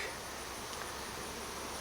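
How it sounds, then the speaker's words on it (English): Honeybees swarm in an open hive during an inspection, giving a steady, faint buzzing hum with no breaks and no voices. "the bees are just now starting to get a little loud"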